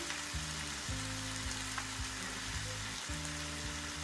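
Chicken fries in a pan as chili sauce goes in, giving a constant quiet sizzling hiss with steady background music playing over it.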